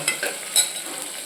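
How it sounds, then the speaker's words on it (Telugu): Something frying in a pan until golden for a Rayalaseema-style lentil curry, a soft steady sizzle with a few light stirring scrapes, close and fairly quiet, no voices. "ఇట్లా వేపుకొని ఇది కొంచెం గోల్డ్ రంగు వచ్చేదాకా వేపుకోవాలన్నమాట."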